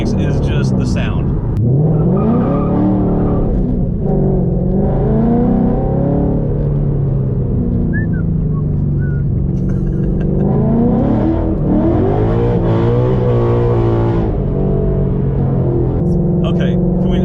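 A 2014 Ford Mustang GT Track Pack (S197) is being driven. Its engine is loud and close, with a deep rumble that climbs and falls through repeated revving pulls. The engine plays on its own, without talk over it.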